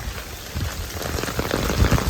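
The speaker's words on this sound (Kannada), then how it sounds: "ಮಳೆ ಜೋರಾಗಿದೆ" Heavy rain from Typhoon Bebinca in eastern China falls in a loud, steady rush, drops drumming on surfaces close by and growing slightly stronger toward the end.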